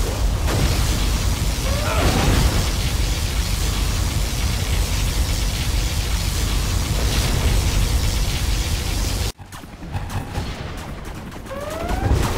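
A particle cannon fires in Command & Conquer Generals, a long, loud roaring blast that rumbles steadily, then cuts out abruptly before a quieter rumble and a rising electronic tone return near the end.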